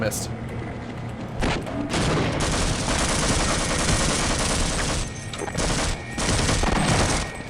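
Rapid, sustained gunfire in the Half-Life video game, a dense continuous barrage of loud shots and blasts filling the whole stretch with only brief dips, close and dominant.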